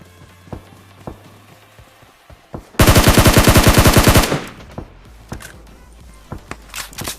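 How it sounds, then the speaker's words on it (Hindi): A burst of rapid automatic gunfire in the mobile battle-royale game PUBG Mobile lasts about a second and a half, loud and close, with scattered footsteps and faint shots before and after it. "बोट दादाओं की गोलियों की आवाज आने लगती है"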